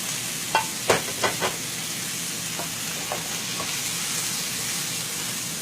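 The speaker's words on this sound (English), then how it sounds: "to this I'm adding 3 short lengths of the V&V sausage" Short lengths of V&V sausage hit a hot pan with several quick clattering drops followed by a steady close sizzle that carries on alone to the end.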